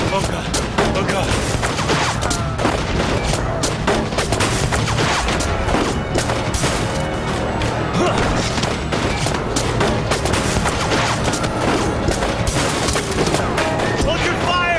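Dense, chaotic gunfire rattling continuously through a street scene in the game 1979 Revolution, loud and close with overlapping shots and booms, while voices shout over it.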